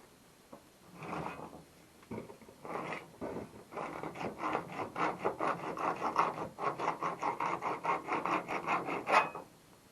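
A burr is filed from a freshly cut plumbing pipe, producing a quick series of close, dry rasping strokes that settle into a steady back-and-forth rhythm before stopping.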